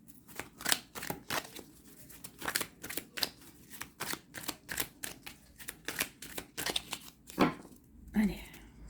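Tarot cards are shuffled by hand, a run of quick, close riffling snaps in an uneven rhythm, fairly quiet, with a voice speaking softly now and then.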